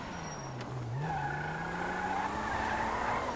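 A car in GTA V brakes hard and skids, with tires squealing loudly in a long whine over the engine's hum, and no talk.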